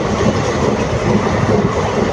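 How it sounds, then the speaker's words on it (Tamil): Passenger train running from Viluppuram toward Puducherry on the Karur–Puducherry route, a steady loud rumble of wheels on rails with faint clickety-clack, continuous with no voices. "சூப்பர் ட்ரெயினுங்க பெஸ்ட்டு ட்ரெயின் இது"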